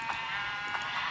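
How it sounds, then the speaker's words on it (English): Sheep bleat in the block-building game Minecraft, giving two or three short, wavering calls that overlap at close range, with no one speaking. "Put a ton of sheep named Jeb in."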